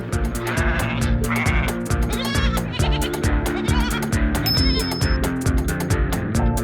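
Sheep bleats mixed into a busy, loud children's nursery tune about a black sheep, with plucked and tinkling instrumental notes pulsing steadily underneath, no talking.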